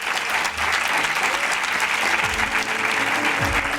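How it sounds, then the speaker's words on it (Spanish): A crowd applauds Aray's parents, Antonio and Marina, at a gathering for families living with Sanfilippo syndrome; steady, dense clapping fills the whole stretch, loud and close, with a few voices faintly mixed in. "Un fuerte aplauso para los papás de Aray, Antonio y Marina."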